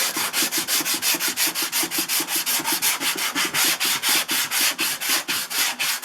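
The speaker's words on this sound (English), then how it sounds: "now I come back with some 120 grit and the Durablock" Body filler on a Corsair being block sanded with 120 grit sandpaper on a Durablock, a close, steady back-and-forth rasping of quick, even strokes, about four to five per second, heard alone.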